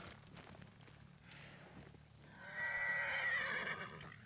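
A horse whinnies loudly in Ghost of Tsushima, a drawn-out neigh rising after faint hoof clops and ambient trail noise, standing alone without talk.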